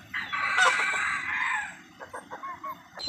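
A darag native rooster crows once nearby, a loud drawn-out call, followed by a few short clucks and calls from the flock.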